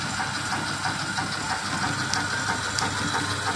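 A lathe machine cuts a workpiece, giving a loud, continuous mechanical drone with a steady hiss and no pauses.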